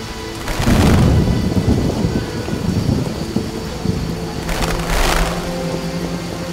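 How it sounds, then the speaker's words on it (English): Steady heavy downpour in The Witcher game, broken by two rumbling thunder crashes, one early and one near the end, with no talk. "What a downpour!"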